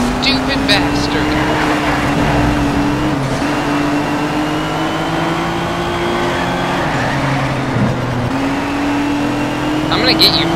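Racing car engines in the Need for Speed Shift 2 video game drone steadily and loudly throughout, with pitch rising and falling as cars accelerate and brake, and a player talking over the continuous engine noise.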